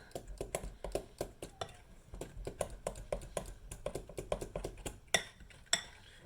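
A spoon and fork clink and scrape steadily against a bowl as thick chocolate brownie batter is mixed, a quick, close, irregular tapping rhythm that keeps going.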